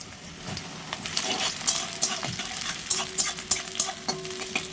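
Carrots and whole garam masala spices frying in white oil in a kadai, a close steady sizzle broken by sharp clicks and scrapes of a spoon stirring, with no one speaking.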